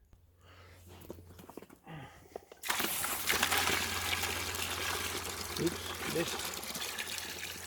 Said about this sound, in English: it's going to pour water into that